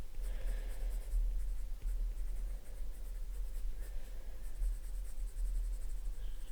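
A Polychromos colored pencil scratches steadily across paper in a continuous close, soft stroking rhythm while blond hair is being shaded, with short pauses between strokes and no talking.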